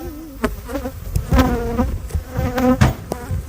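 Insects buzz steadily with harmonic hums swelling and fading, interrupted by a few sharp knocks and clicks close by.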